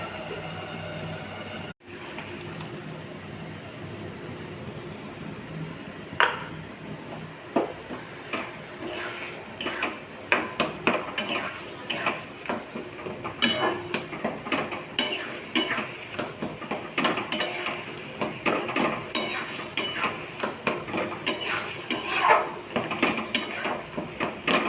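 A lid goes onto a cooking pot of bottle gourd and potato amid a run of metallic clinks, knocks and scrapes that grow busier and louder, with no one speaking.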